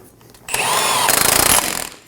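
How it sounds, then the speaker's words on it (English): A power tool runs down the axle nut on a 2008-2015 Scion xB front lower control arm job, one close, loud buzzing burst of about a second that winds down at the end. "Install the axle nut and snug it down."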